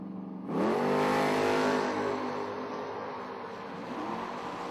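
A drag race launch with a Chevelle among the cars: a sudden loud engine roar bursts in near the start and holds strong, its rising harmonic whine continuing as the cars pull away and the sound slowly eases.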